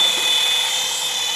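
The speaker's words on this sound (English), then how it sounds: "Baba, press the button again so it flies this way" Close, steady high-pitched whine of a small motion-controlled toy drone's spinning rotors, loud and unbroken, with no talking.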